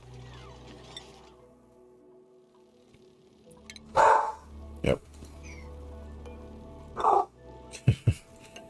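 A pet dog barks several times at a loud disturbance nearby: short, sharp bursts spread across a quiet room, with two close together near the end.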